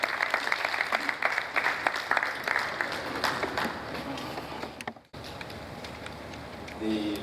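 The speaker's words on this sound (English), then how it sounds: "Please, a round of applause for the engineer." Applause from the audience at a construction industry business roundtable, a steady patter of many hands clapping for several seconds before cutting off abruptly, then a quieter room tone with a brief voice.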